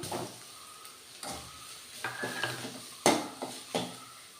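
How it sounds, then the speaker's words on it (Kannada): Ground coconut masala frying in a little oil, stirred with a spoon that scrapes and taps the pan in irregular strokes over a soft background sizzle, close by and without speech. "ಸ್ವಲ್ಪ ಎಣ್ಣೆಯಲ್ಲಿ ಫ್ರೈ ಮಾಡ್ಕೋಬೇಕು"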